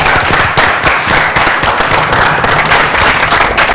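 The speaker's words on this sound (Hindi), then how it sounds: "जोरदार तालियां" Loud, dense applause from an audience at a televised youth quiz show on energy conservation, greeting the winning Rakshak team, continuous and sustained throughout.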